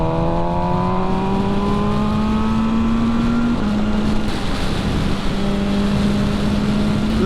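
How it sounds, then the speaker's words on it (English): An MV Agusta Brutale 1000 RR, a 2020 model, roars along a wide road at speed, its engine note holding high and rising steadily, then dipping briefly between gears, under constant loud wind rush. "This bike comes alive at speed on these bigger roads with the revs higher up"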